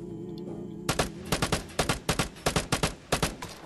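Rapid gunfire in the VIGOR video game opens after a brief quiet moment, with about a dozen sharp, loud shots in uneven bursts and no talking.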